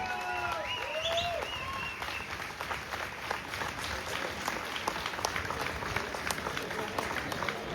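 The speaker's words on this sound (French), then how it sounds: "on peut les applaudir très très très fort" Outdoor crowd applauding at a village festival with running young cattle, steady clapping under loud whistles and cheers, with a voice faintly audible in the mix.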